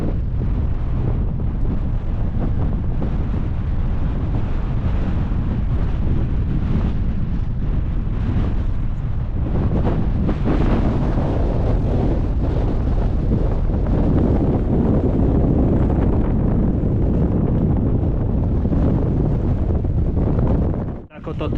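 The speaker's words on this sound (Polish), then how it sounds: "strasznie wieje zimno i trzeba zacząć się ruszać" Strong, cold winter wind roars continuously across a mountain ridge on Świstowy grzbiet in the Tatras, buffeting loudly and steadily for the whole stretch.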